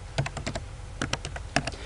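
Keys tapped on a computer keyboard in two quick bursts of clicks separated by a short pause, close and clear.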